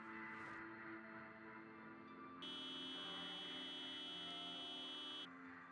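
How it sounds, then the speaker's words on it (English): A car alarm in the zombie survival game Project Zomboid blares as a sustained, steady electronic buzzing tone that starts partway through and holds loudly for several seconds over a quiet background hum. "After letting off the car alarm, I had no idea how many zombies it was going to bring in"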